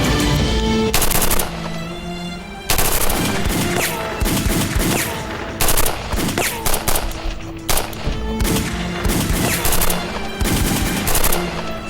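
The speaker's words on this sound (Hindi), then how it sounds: "स्नाइपर से इन पर फायर करो, रोको इनको।" Sustained automatic gunfire and volleys of shots in a dramatic action scene, loud and continuous with dense bursts and brief gaps, filling the whole stretch without voices.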